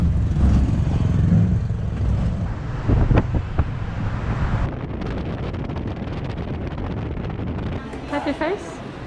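A tuk-tuk ride with heavy wind buffeting the microphone, a rough roaring rush that shifts and gusts throughout, with brief voices heard near the end.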